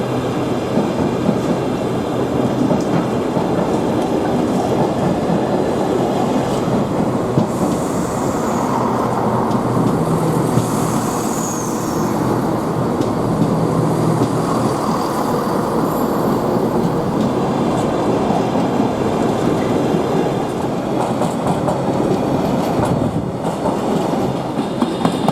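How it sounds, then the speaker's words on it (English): A Class 170 diesel multiple unit passing near Drax Power Station, its steady broadband rumble and rhythmic clickety-clack of wheels on rail continuing loud and close for the whole stretch, with no voices. "Quite a nostalgic sight as we see a Class 170 DMU head past"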